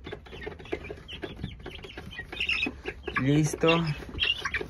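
Chicks and hens cluck and peep near a coop still under construction, soft chirps scattered throughout, with a louder cackle near the end, while someone talks over them.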